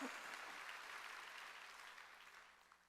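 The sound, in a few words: church congregation applause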